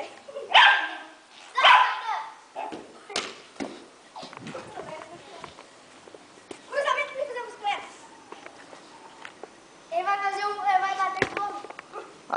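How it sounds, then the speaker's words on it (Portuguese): A dog barks repeatedly, loud and close, in sharp bursts during a street football game, with people talking and shouting around it. "Olha o cachorro."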